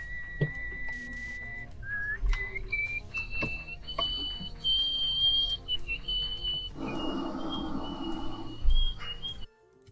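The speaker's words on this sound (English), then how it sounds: "That is a rather loud nose whistle." A loud nose whistle: thin, piercing tones that slide and waver in pitch, with short breaks, then stop abruptly near the end.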